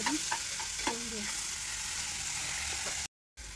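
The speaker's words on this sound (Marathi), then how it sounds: "आपण इथे हिरवी मिरची वाटलेले आहेत, बारीक केलेले आहेत ते तेलात टाकून घेऊ" Ground green chillies sizzle steadily in hot oil for cabbage bhaji, a continuous frying hiss with a few stirring scrapes, close and fairly loud, then a brief dropout near the end.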